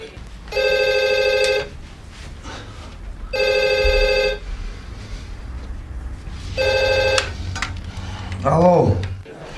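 A telephone rings in three loud, steady bursts, each about a second long with pauses between, followed by a brief higher chirp near the end; faint background noise sits underneath.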